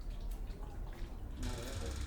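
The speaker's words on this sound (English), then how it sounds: "Pour a lot of water. I need more water." Water pours and splashes in a steady, soft rush that grows fuller partway through, with a person speaking nearby.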